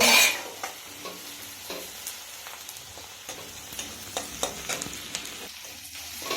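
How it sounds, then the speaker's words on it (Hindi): Onions sizzle and crackle steadily in hot oil while cooking a prawn curry, with occasional stirring clicks and scrapes throughout. "तेल पकाला तापर हमर पियाज एबे पकाई के ताकू होची"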